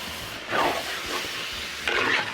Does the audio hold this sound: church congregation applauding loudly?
no